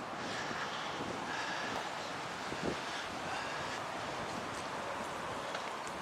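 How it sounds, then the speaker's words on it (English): Strong wind blows across a churchyard on a hilltop, a constant broadband roar with gusty rumble against the microphone and faint rustling, with no voices. "God, it is windy."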